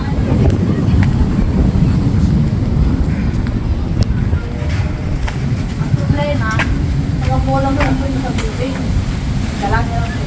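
Strong wind buffets the microphone in a constant low roar, with voices and a few passing vehicle sounds faintly in the background.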